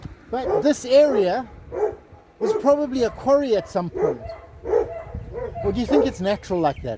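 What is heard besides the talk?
caged hunting dogs barking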